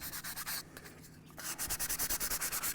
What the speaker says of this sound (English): we are sanding with the grain.